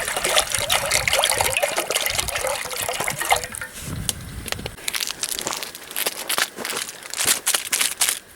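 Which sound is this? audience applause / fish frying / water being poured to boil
water being poured to boil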